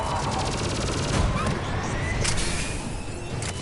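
A mounted gun firing in a Mass Effect 3 combat scene, steady rapid bursts close up over a roaring low rumble of battle, with distant shots and impacts mixed in.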